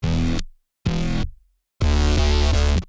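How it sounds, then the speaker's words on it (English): Serum synth bass patch in a bass house track, heard as three loud harmonically rich stabs separated by silences, the last one longer and pulsing rhythmically. "And then we have the serum patch."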